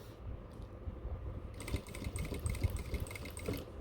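A sewing machine stitches stretchable fabric for cargo pants, its needle running in a fast, even mechanical chatter that starts partway through and continues close and steady, with no voices.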